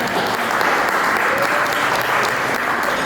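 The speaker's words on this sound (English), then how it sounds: "Please give a round of applause." A conference audience at an AAPI convention in Chicago gives a steady, dense round of applause, many hands clapping evenly and loudly throughout with no break.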